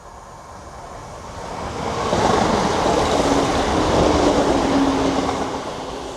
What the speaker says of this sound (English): I think there's a train coming now.